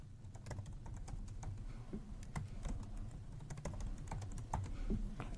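A password is typed on a computer keyboard in short runs of soft, close key clicks with uneven spacing over a quiet room background, with no speech.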